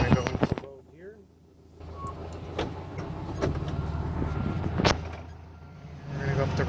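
A 1970 VW Beetle engine runs at low rumbling revs in low gear while the car heads down a ramp, a steady near drone with some mechanical clicks and brief knocks, and a voice speaks over it.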